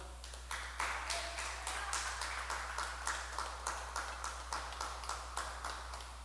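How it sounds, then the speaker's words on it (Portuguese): A church congregation gives a round of applause, steady fast clapping across the room over a constant low hum, with some speech mixed in. "Você pode dar mais uma salva de palmas ao Senhor?"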